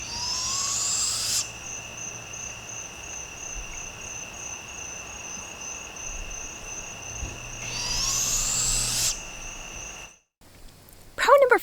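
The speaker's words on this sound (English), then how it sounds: "It just is so nice when you hear nothing but birds." Birds call outdoors at a forest campground over a steady drone of insects, with the calls fading in and out, then a brief rustle close by at the end.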